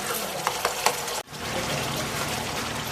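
Spice masala for paneer masala stir-fries in a pan, a steady sizzle with a few sharp scraping clinks of the spoon, a brief dip, then continuous frying.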